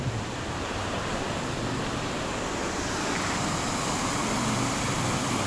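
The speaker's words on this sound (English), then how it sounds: "River flow running parallel to the canal." A river flows alongside the Thames and Severn canal near Stroud in the Cotswolds, giving a steady broadband rush of water that stays loud and unbroken throughout.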